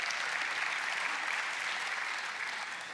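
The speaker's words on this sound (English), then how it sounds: "You can clap, it's fine." Steady applause from an audience, dense and continuous for the whole stretch, moderately loud with no voices standing out.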